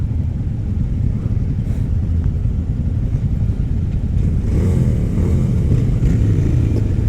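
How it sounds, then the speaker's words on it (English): Motorcycle engines, including a Royal Enfield Scram 411, rumble and rev steadily throughout a group ride, loud and close, with the revving swelling slightly in the second half; no talking. "I'm competing in the revving of engines"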